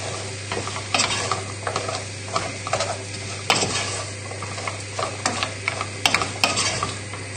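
A spoon stirs the filling mixture for a goat's cheese tart in a pan over full heat on a small burner, giving irregular scraping strokes and clinks over a soft sizzle and a steady low hum.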